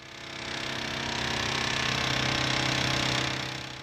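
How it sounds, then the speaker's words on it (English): A file cutting machine's hammer strikes at a constant rapid rate, a steady mechanical rattle with a low hum that swells in and holds loud, with no talking, in a traditional file making workshop. "The hammer strikes at a constant rate."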